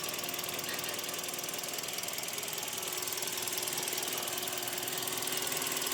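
A 2016 Daihatsu Xenia with a 1300cc engine and manual transmission idling, giving a steady, even mechanical clatter and hum that runs unchanged throughout at close range with no talk.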